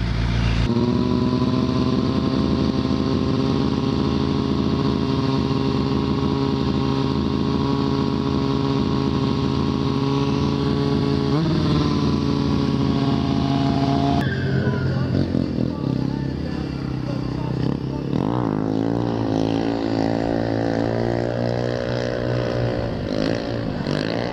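A motorcycle fitted with an FDB exhaust drones loudly at a steady pitch for a long stretch, then the note shifts and wavers as it rushes past and revs fade, all close and without speech.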